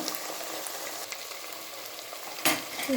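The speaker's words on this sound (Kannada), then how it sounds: "ಈಗ ಕ್ಯಾರೆಟ್ ಹಾಕ್ಕೊಳ್ಳೋಣ. ಒಂದು 2 ನಿಮಿಷ ಫ್ರೈ ಮಾಡ್ಕೊಳ್ಳೋಣ." Carrots frying in a pan for a vegetable khushka, a steady close sizzle filling the clip, with a sharp stir or clank of the pan near the end.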